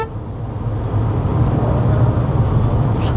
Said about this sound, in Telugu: ఇప్పుడు నేను మన సోనెట్ డ్రైవ్ చేస్తున్నాను